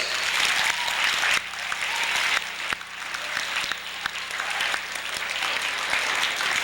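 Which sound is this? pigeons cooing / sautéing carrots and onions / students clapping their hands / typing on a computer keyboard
students clapping their hands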